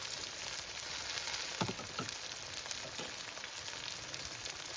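Green chili, ginger and garlic sizzle steadily in a hot pan for an Idukki-style botti curry, a close, continuous frying hiss with a few brief stirring scrapes and no talk.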